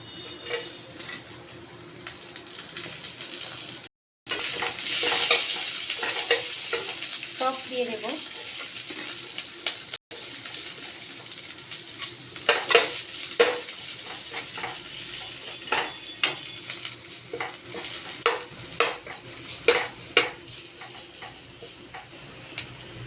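Vegetables frying in two spoons of white oil in a pan on a gas stove, a steady sizzle under repeated spatula scrapes and pan knocks, with a couple of brief dropouts.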